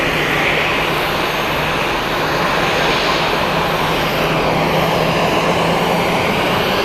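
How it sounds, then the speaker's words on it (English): An Airbus A320-200 takes off at Zurich Airport, a powerful, continuous jet roar that stays loud and even for several seconds, with no talking. "Those guys taking off now. This is the Airbus A320-200."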